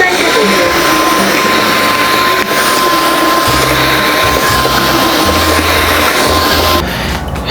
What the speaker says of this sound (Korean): 또 물걸레 청소기 등장했습니다.